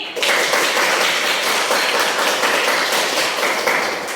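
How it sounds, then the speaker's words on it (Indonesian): A classroom of children claps together after a morning lesson, a dense, lively burst of applause that continues steadily at close range without speech. "Coba kita tepuk tangan dulu untuk pelajaran kita pada pagi ini."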